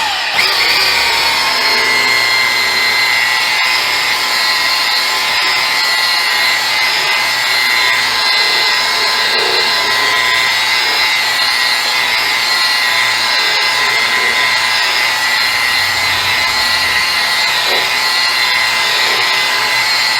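A power buffer polishes scratches out of a motorcycle windshield, giving off a loud, constant whirring hum with no letup, close by and unbroken throughout.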